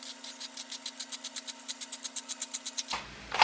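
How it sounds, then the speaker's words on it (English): Quick, evenly spaced rasping strokes come from a hand spiralizer turning a zucchini into noodles. Around twenty rhythmic twists sit over a steady hum, and the sound stops with a brief clatter near the end. "you're just going to jam that top right into the zucchini and spin it"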